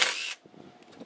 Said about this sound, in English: Okay, I'm gonna take this bolt off just like that